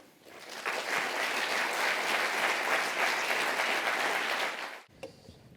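A large lunchtime audience at a talk on technology and power breaks into dense, sustained clapping that lasts about four seconds and then abruptly dies away.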